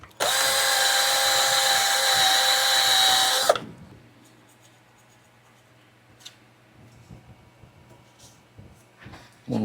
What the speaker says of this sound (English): I have to switch off to a different drill here in a minute